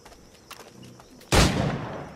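A single loud musket gunshot in Assassin's Creed IV Black Flag, a sudden sharp blast followed by a rolling, echoing tail, preceded by quieter ambient game sounds.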